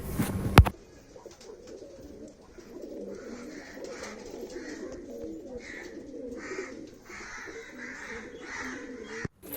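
Pigeons coo repeatedly in soft, throaty rhythmic phrases, fairly close by, with a sharp click near the start and another near the end.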